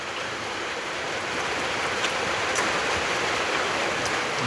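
Steady rain falls outdoors, a dense, even wash of hiss close by with occasional brighter drops, continuous throughout with no speech.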